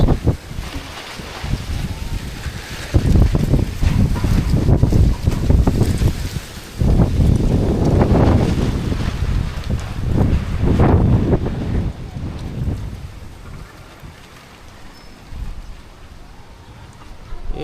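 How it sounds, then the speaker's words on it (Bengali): Strong Kalbaishakhi (nor'wester) storm wind buffets the microphone in heavy, rumbling gusts that rise and fall, with faint voices underneath. "প্রচুর ঝড় বাতাস আসতেছে"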